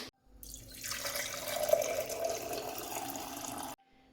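Water streams steadily onto a balcony floor during washing, a continuous splashing rush that starts abruptly, holds at moderate loudness for a few seconds, then cuts off.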